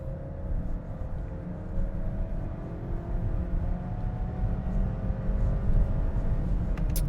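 A 2026 Volvo XC60 B5 all-wheel-drive SUV with a 2-liter four-cylinder engine pulls hard, its steady engine drone rising gradually in pitch under a heavy low road rumble, heard from inside the cabin without talk.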